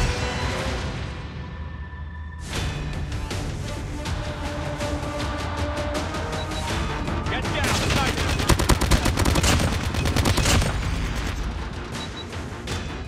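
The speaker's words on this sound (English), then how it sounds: "Sentry gun deployed. Enemy contact!" Rapid, continuous automatic fire from a sentry gun in the shooter game Call of Duty Mobile, loud and dense across the whole stretch, blended with game effects and in-game voice callouts.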